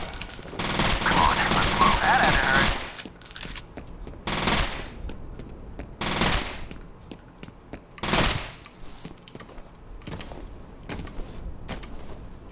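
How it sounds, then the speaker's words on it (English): Video game gunfire from players shooting in another compartment, with rapid automatic bursts up front followed by scattered heavy shots and mechanical clanks, fairly loud and reverberant, with no talk over it. "You can also understand that there are people shooting on the other side of this compartment."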